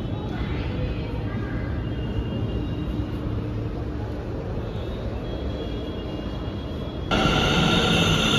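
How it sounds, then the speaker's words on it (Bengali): A metro train rumbles steadily close by, then a louder, brighter roar of wheels and braking rises near the end as it pulls into the station. "ট্রেন এসে গেছে।"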